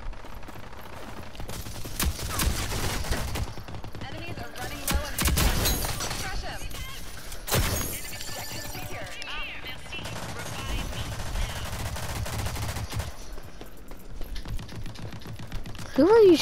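Scattered gunfire bursts from the online shooter Rogue Company, several loud volleys and single shots spread across the stretch amid game noise, with a player talking over parts of it.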